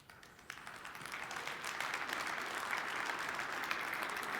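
Applause at an energy conference session builds from a few scattered claps into a full, steady round of many hands. It sounds fairly distant and holds on to the end.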